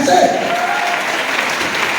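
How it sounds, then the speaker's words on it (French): An audience applauds and cheers steadily, a moderately loud, continuous wash of clapping with voices mixed in throughout. "Donne-moi des acclamations militaires."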